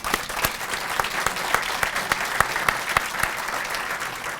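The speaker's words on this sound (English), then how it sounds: "to receive her well-deserved applause and recognition" An audience applauds a new Hall of Fame inductee at a university recognition event, sustained clapping from many people with a few sharper individual claps standing out near the front.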